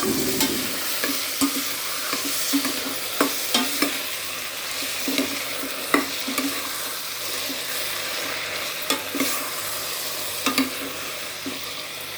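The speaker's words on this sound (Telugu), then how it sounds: "ఈ కట్ చేసుకున్న టమాటాలు యాడ్ చేసుకోవాలి ఒకసారి మిక్స్ చేసుకుందాం" Finely chopped tomatoes sizzle steadily in a hot pan for lunch-box cooking while a utensil stirs them, making soft repeated scrapes and taps over the continuous frying hiss.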